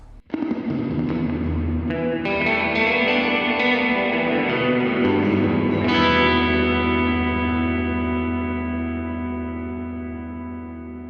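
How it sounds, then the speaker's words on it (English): Electric guitar played through a Line 6 Helix tank-style, very wet reverb, several notes and chords struck in sequence, each blooming into a long washy tail that builds into a dense sustained wash and slowly fades at the end. "I'm thinking that this is kind of like a tank reverb, like a big, you know, super wet reverb"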